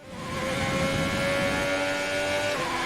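A Formula 1 racing car lapping in a video game driven with a steering wheel, its steady high engine whine holding pitch under continuous road and tyre noise, with a slight drop near the end.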